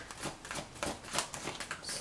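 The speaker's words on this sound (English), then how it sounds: "I don't know which way to shuffle these cards." Close rapid riffling and flicking as tarot cards are shuffled by hand, a continuous burst of crisp card sounds with no talking.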